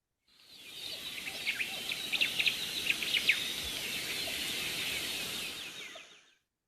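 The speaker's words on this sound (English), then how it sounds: "For the jungle ambient sounds," Jungle ambience full of chirping birds and buzzing insects, many overlapping calls and trills over a steady hiss of crickets, fading in and out.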